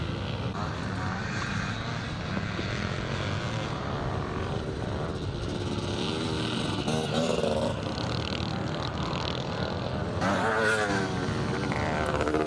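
Scramble motorcycles race at the Drumlanrig Scottish Grand National, their engines revving and droning continuously at a distance while a commentator talks over the noise.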